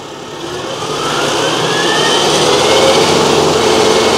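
Bandit Industries SG-75 stump grinder engine running steadily nearby, a continuous broadband mechanical roar that swells slightly in the first second and then holds even, with no talking.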